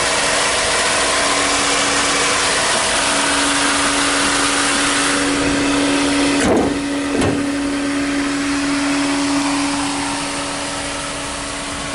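A 2016 Honda Civic EX engine idles steadily with a close, constant hum and whine, two brief sharp clicks partway through, no talk.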